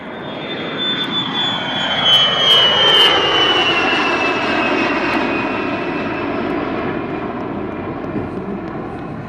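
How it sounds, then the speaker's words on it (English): The White Knight Two carrier aircraft, carrying a spaceship, roars loudly in flight. Its jet engines give a broad, continuous rumble with a whining tone that slowly falls in pitch as it passes, with no voices. "That's the spaceship being carried by the carrier plane, White Knight 2."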